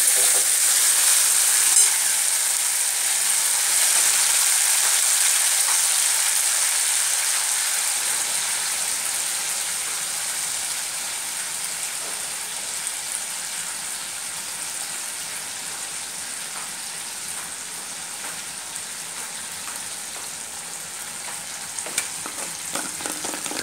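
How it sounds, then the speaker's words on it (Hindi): Chilli chicken sizzling and frying in a pan with red chilli sauce, a steady loud hiss that fades slightly over time, with occasional stirring clicks and no talking. "एक चम्मच रेड चिली सॉस, थोड़ा देर तक फ्राई होने देंगे।"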